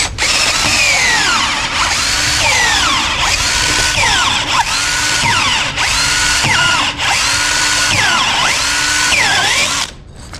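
A power drill bores through a wall into styrofoam insulation while laying a cold water line to a manifold. It whines loudly and continuously with repeated pulsing surges and a steady grinding rhythm, then stops abruptly at the end.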